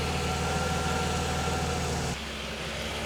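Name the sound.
car engine idling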